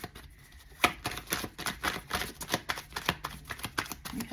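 Tarot cards being shuffled by hand during a card reading, a steady run of quick papery riffles and flicks, close and fairly quiet, with no talking.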